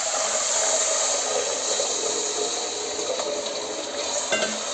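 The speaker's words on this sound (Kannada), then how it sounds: "ಸೊ ನಾನು ನೀರು ಹಾಕ್ತಾ ಇದ್ದೀನಿ ಈಗ" Water is poured into a pan of ghee-roasted moong dal, producing a continuous close hissing sizzle with faint clinks, steady and unbroken, with no one talking.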